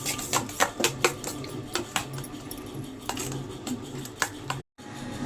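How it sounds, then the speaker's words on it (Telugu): Spoon or utensil clinking and scraping in a bowl while spiced bread ingredients are mixed, a series of sharp metallic taps at an uneven rhythm, with a brief drop to silence near the end. "ఇప్పుడు ఇవన్నిటి కలిపి బాగా మిక్సింగ్ చేయాలి"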